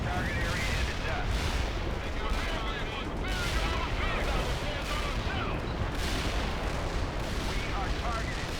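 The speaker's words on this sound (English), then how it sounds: "Artillery barrage through the target area into dust." A World in Conflict artillery barrage rumbles on as a dense, continuous roll of heavy blasts and gunfire, loud and unbroken throughout, with faint game radio voices underneath.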